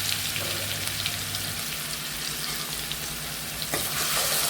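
Chopped onion frying in a pan with cumin for chole gives a steady, close sizzle throughout, with a brief clink or stir near the end.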